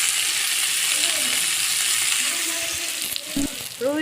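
Food sizzles and crackles steadily in a hot pan during home cooking of a Sunday lunch. The frying is loud and close, with a few scraping stirs near the end and no speech.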